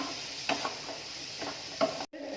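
Grated carrot being mixed in a pan while cooking for bread pola, a few soft scrapes and stirs spaced apart over a quiet, low hiss, faint and close.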